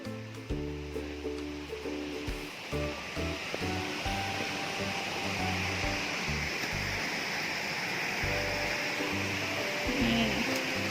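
Erawan waterfall in Thailand flows as a soft, continuous rushing wash heard from a trail, fairly faint, with low tonal humming and brief background noises in the first few seconds.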